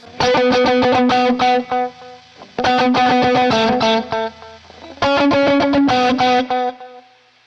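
Electric guitar played through an AmpliTube 5 Leslie-style rotating-speaker amp tone, three loud strummed chord passages with swirling, chorus-like modulation and some distortion, separated by brief pauses.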